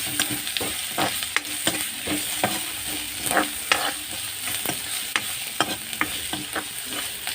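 Onions fried until reddish are stirred in a pan with added ground ginger-garlic paste for a chicken and banana-blossom dish: a continuous sizzle with repeated scraping stirs at an irregular rhythm, close and clear, with no talking.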